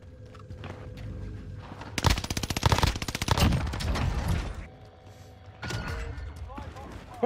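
PPSH-41 submachine gun firing in a video game: a dense, rapid burst of loud automatic fire lasts about two seconds, then softer game sounds follow and someone talks.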